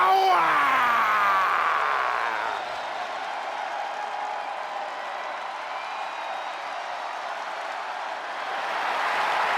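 A crowd in the WWE 2K22 wrestling video game applauding and cheering as a steady, diffuse arena roar that dips slightly in the middle and swells again at the end, with a brief musical sting at the start.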